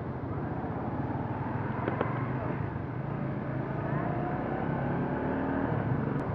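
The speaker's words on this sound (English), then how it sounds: "Ooh, traffic. Traffic. What's causing this traffic?" Heavy road traffic in a jam caused by an accident, heard from a Rusi SS250 motorcycle: a continuous engine and wind roar with idling and creeping vehicles around.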